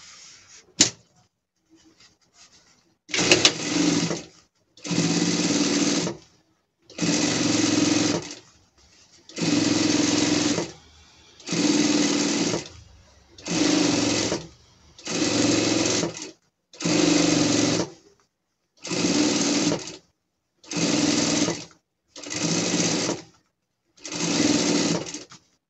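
Sewing machine pre-stitching a gaucho costume for a pet, running in about a dozen steady bursts of a few seconds each with short pauses between, loud and close.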